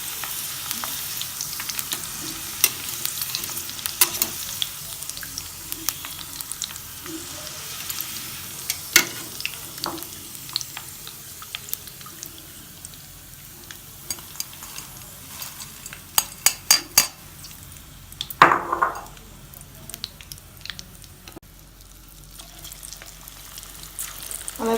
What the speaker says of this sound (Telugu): అలాగే మిగిలిన దొండకాయ ముక్కలు కూడా ఇట్లా పలుచగా వేసుకొని మీడియం ఫ్లేమ్లో ఫ్రై చేసుకోవాలి.